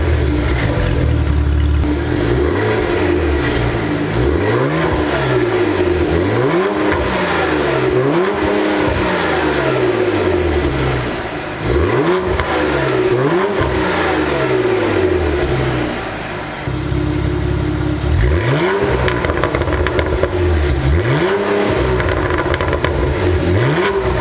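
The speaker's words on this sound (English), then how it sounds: "I want to do a quick sound clip of before with the completely factory exhaust" Cadillac CT4-V Blackwing engine on its completely factory exhaust, revved repeatedly in a steady series of rising-and-falling blips, loud and close, with a brief pause midway before the revs resume.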